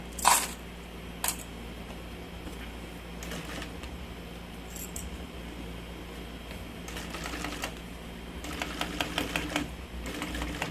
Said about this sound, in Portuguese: então eu vou costurando até chegar aqui na outra ponta